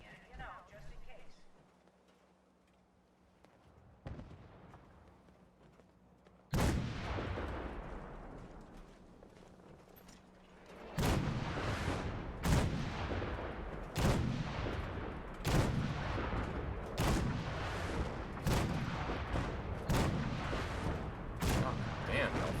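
Artillery fire mission landing in Fallout 4: a burst of loud booming impacts arrives, then a steady run of heavy blasts strikes roughly every second, close and powerful, with some talk early on.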